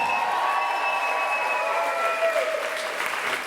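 Crowd applause for a band at a live show, steady and moderately loud throughout, with sustained musical tones ringing beneath the clapping.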